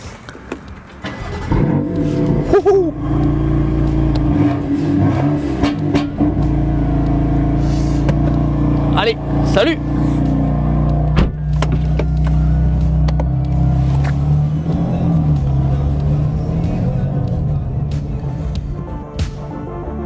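A BMW M5 E28 sedan with a titanium exhaust and M1-derived engine revs hard and accelerates, a loud, continuous close-up roar rising and falling in pitch over about twenty seconds, with a brief shout from a driver.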